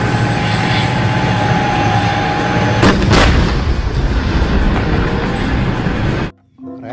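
A loud toy steel tank sound effect: a dense, roaring engine rumble with a couple of sharp, gunfire-like bursts in the middle, then it cuts off abruptly into silence.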